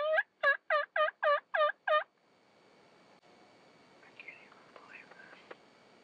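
Wild turkey jakes in a Kansas field give a burst of six loud, rapid gobbles, followed by quieter, more distant calls against a soft outdoor background.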